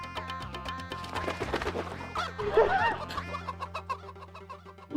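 Several short clucks from a rooster over steady low background hum, fairly close, with a louder burst of clucking midway.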